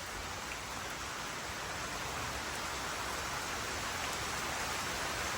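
Steady, dense rain pours down over a rural field of chili plants, a continuous hiss that stays even and fairly loud throughout with no pauses.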